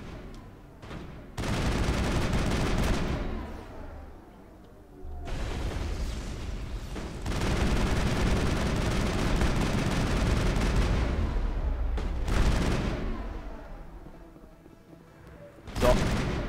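Assault rifle fire in the video game Mass Effect comes in loud sustained bursts of rapid gunfire, with heavier booms and short lulls in between.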